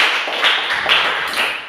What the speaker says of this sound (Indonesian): Tepuk tangan untuk si Glory.